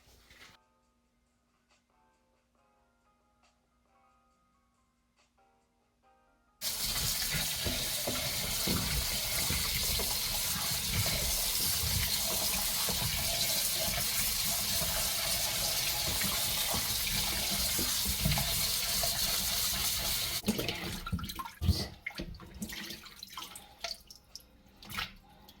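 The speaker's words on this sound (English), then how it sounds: "I'm going to wash my grape and I will be right back." After a quiet start, a kitchen tap opens and runs steadily and loudly as grapes are washed beneath it, a continuous close rush of water that ends with a few splashy drips and handling noises.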